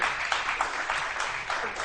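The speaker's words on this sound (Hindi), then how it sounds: "हैदराबाद के लिए बहुत सारी तालियां होनी चाहिए।" Brief burst of studio audience clapping on a Pakistani morning talk show, dense and fairly close, with faint voices mixed under the applause.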